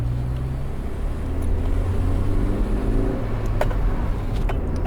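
Interior of a car with a newly fitted exhaust, the engine droning at a steady low idle-to-cruise level, with a few faint clicks over the constant hum.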